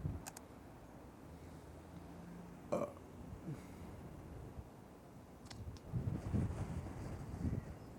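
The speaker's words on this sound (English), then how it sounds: "This wind is very annoying." Low, gusty rumble of wind buffeting a microphone, with irregular thumps and bursts swelling louder toward the end.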